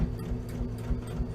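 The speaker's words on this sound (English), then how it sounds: "Start sewing in the middle." A sewing machine stitches a tote bag seam, its quiet, even mechanical whir and rapid needle ticking running close and steady through the short moment, with no voices.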